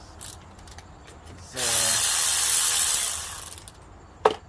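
Bolts on a passenger-side engine mount of a 2013 Nissan Sentra worked loose with a ratchet wrench: a loud, steady burst of rapid mechanical whirring lasts about two seconds, followed by a sharp single clank near the end.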